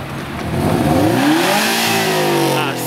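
A car engine revs up loudly, its pitch climbing and then falling as it accelerates past, close and continuous for about three seconds.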